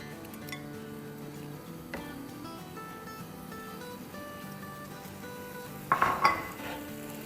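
Soaked potato slices cook dry in a single layer in a pan over a high flame on a small stove, with a faint sizzle under clinking metal utensils and a louder clatter near the end.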